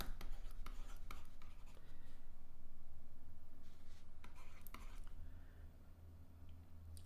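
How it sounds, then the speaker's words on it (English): A pen scratches continuously on paper up close, with short strokes and brief lifts of the pen, over a low steady background hum. "let's write that down"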